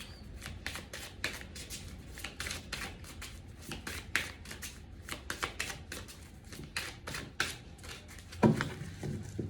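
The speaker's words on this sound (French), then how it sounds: "On remélange." A deck of playing cards is riffled and shuffled in quick repeated bursts of crisp flutters and taps, close and fairly quiet, with a short thump near the end.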